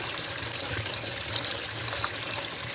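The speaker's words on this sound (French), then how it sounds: "je vais mettre de l'eau tiède" Lukewarm water running steadily from a tap to wash cut fish, a continuous close splashing rush with no talking over it.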